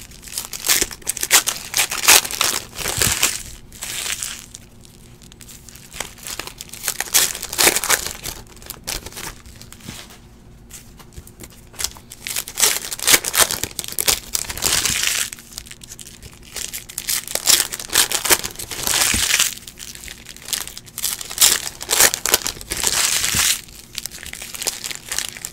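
Foil wrappers on 2017-18 Donruss basketball card packs crinkle and tear up close in repeated bursts, with steady handling noise and short pauses between packs, and no talking.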